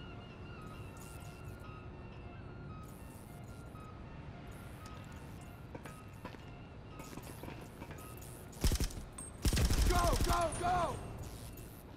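Gunfire in GTA 5 Online during a San Andreas Mercenaries mission: after a stretch of game ambience and a shouted voice, two loud bursts of rapid shots erupt near the end, close and dense.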